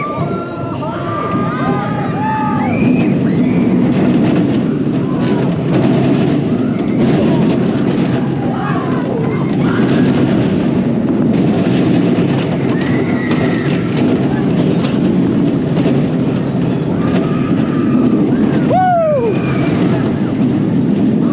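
Shockwave, a stand-up rollercoaster, roars along its track in a continuous rumble with wind buffeting, rattling and distant rider screams over about twenty seconds.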